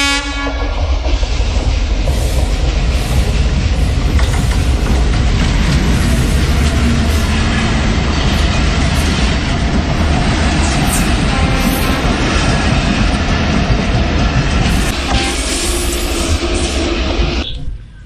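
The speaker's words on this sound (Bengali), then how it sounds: "ঠিক এই মুহূর্তে একটা ট্রেন আসতেছে" Train rolling through Jagati railway station in Bangladesh, a loud, sustained roar of wagons passing close by with steady rail clatter, a horn sounding, and the noise holding strong for the whole span before cutting off at the end.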